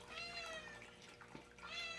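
A cat kept among other caged cats meows in a few quiet, drawn-out calls over a soft background of faint trickling and shuffling.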